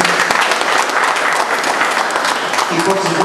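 At a painting exhibition opening, an audience claps in a dense, steady burst of applause, with voices mixed in beneath the clapping.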